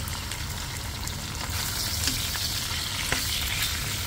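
Pancit canton noodles stirred in a frying pan, a steady close sizzle running throughout with occasional faint scrapes of the utensil, no voices.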